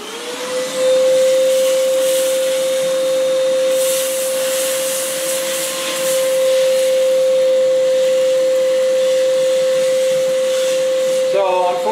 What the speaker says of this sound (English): My wife's favorite little vacuum cleaner.